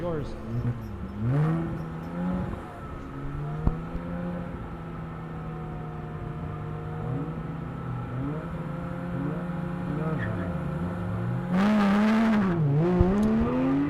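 A Porsche GT3 and a Subaru WRX rev and accelerate off the start line at an SCCA ProSolo autocross, their engine notes rising and falling through the gears. An announcer talks over the engines, and a louder burst of revving comes near the end.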